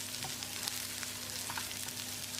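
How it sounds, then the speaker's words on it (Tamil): Garlic, ginger and chopped onion fry in a tablespoon of oil in a pan, giving a steady, soft sizzle with faint crackles and no voices. "பேனில் 1 டேபிள் ஸ்பூன் எண்ணெய் விட்டுக்கலாம். 10 பல் பூண்டு, 1 இன்ச் அளவுக்கு 1 துண்டு இஞ்சி, 2 பெரிய வெங்காயம் நறுக்கினது"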